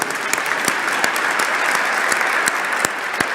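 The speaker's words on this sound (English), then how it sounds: "Let's give a round of applause for him." An audience at a Veterans Day ceremony at the Wisconsin State Capitol applauds an 88-year-old band leader, a continuous bed of many people clapping with a few sharp, close claps standing out, with no talk over it.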